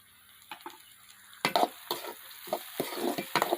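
Sliced okra frying in oil with a quiet background sizzle, punctuated by several distinct scraping stirs and clinks of a spoon against the pan, close and intermittent.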